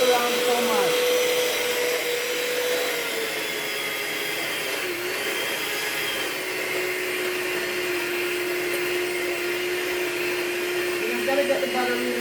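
A hand mixer whirs steadily, creaming butter for thick, soft chocolate chip cookie dough, a continuous close, fairly loud motor drone with slight pitch shifts as the beaters move through the butter.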